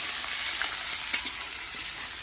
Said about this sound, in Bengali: এই পেঁয়াজ ভাজা হচ্ছে,